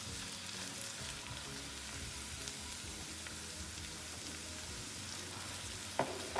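Garlic and onions sautéing in a pan for shrimp curry, a steady soft sizzle and crackle of frying that runs continuously, fairly quiet and close, with a brief stirring clatter near the end.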